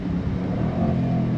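A 2025 Jaguar F-Pace SVR 575 Edition performance SUV engine revs hard toward redline, a loud, steady, close-up roar with a rumbling low end and no talking.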